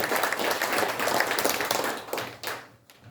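Guests at a Korean launch ceremony clap to welcome an introduced official, a short burst of dense applause that tapers off over about three seconds.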